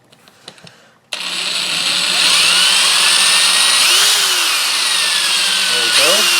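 A power drill with a dull bit whines steadily into the body of a Glarry GST II electric guitar, a loud, continuous high-pitched spin lasting several seconds after a brief start, with no talk over it.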